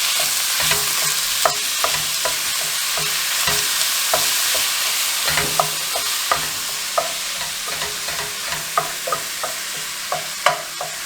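Ground turkey sizzles steadily in a hot pan, a constant bright hiss broken by repeated soft scrapes and taps of a utensil stirring, with no voices.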